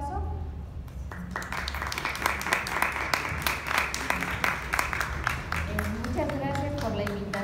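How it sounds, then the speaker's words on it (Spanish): Applause from an audience at a conference on Cuba, individual claps sharp and distinct, building quickly and continuing steadily while a voice speaks over it, with a bit of background music-like tone. "Un aplauso."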